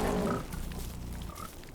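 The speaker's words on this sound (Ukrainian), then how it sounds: "Он до нас свиней нападає." Pigs in a video game give out a few close, rough grunts and oinks over about two seconds, loudest at the start and trailing off, with no talk over them.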